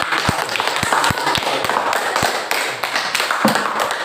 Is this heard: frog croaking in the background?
no